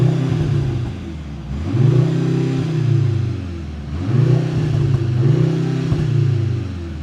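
A Mercedes-AMG C63 engine in Sport Plus mode with the exhaust open revs up and down in two big sweeping pulls, its throaty exhaust roaring loud and close between idle dips.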